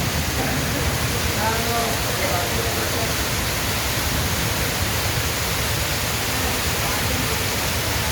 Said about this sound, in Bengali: অনেক বৃষ্টি, অনেক বৃষ্টি